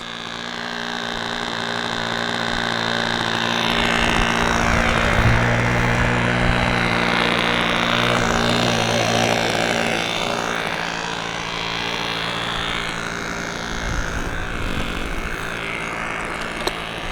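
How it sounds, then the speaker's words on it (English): A small SH46 Sonic Hi Wing model airplane's glow engine drones steadily and loudly nearby during a ground taxi test, its buzzing pitch rising and easing slightly as it rolls out and back. "I'm going to do a little taxi test."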